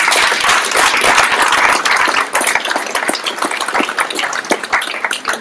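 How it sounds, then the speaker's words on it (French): Audience applause after a panel talk on chatbots, a loud, dense burst of clapping that tapers off into scattered, uneven claps. "on peut les applaudir."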